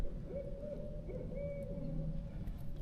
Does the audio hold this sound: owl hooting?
yes